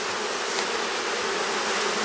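Honey bees swarm around an open hive in a dense, continuous buzz, many insects droning close by without pause and no talking.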